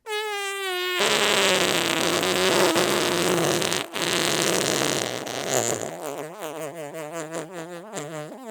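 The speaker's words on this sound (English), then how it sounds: "It was the worst fart of his life. It made a tremendous noise and shot him across the room." A dog lets out a loud, drawn-out fart in a children's story read aloud, a long buzzing, rasping blast with a wavering pitch that stutters into choppy bursts near the end, with no talking over it.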